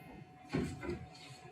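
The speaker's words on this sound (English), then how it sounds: "going to open the door again." The door of a SaniServ batch freezer ice cream machine swings open with a short mechanical clunk and a brief scrape, heard over a steady low machine hum.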